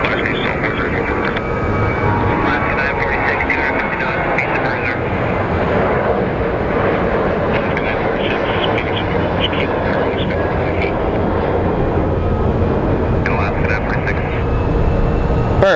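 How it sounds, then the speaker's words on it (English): Fixed-wing airliner taking off at Phoenix Sky Harbor International Airport, a loud sustained engine roar filling the whole stretch, with a voice talking over it and air-traffic radio chatter. "Perfect takeoff."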